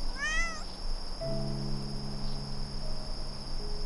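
A cat's meow from a calming bedtime scene of a garden at night, a single rising and falling call near the start, followed by steady tones over a constant high cricket chirr.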